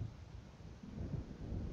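Low, distant rumble of thunder from an approaching storm in the Alan Wake video game, a soft rolling swell with no speech.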